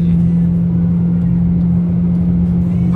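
A Volkswagen Jetta 2.0 Comfortline, 116 horsepower and running on gasoline, accelerates with a steady, loud engine drone and a strong low hum heard from inside the cabin, continuous and without talk.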